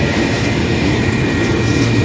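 A freight train rolls past on rails with a loud, continuous rumble and rattle from close range, steady from start to finish, with no talking.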